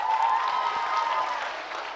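An audience at a Dev Anand quiz event in Jaipur claps, a soft, continuous hiss of applause blended with a steady tone, fairly even throughout and with no talk.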